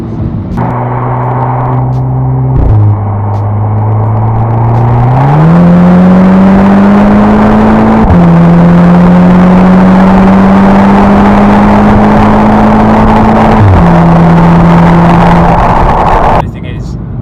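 A 2010 Volkswagen Golf MK6 R with a DSG gearbox revs hard under load, its engine note climbing steadily through several quick gear changes, loud and close from inside the cabin, with people talking over it.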